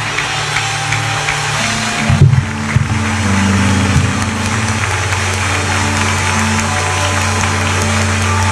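Congregation applauding at a church anniversary service, a loud continuous mass of clapping over a sustained low droning tone, with a brief louder burst partway through.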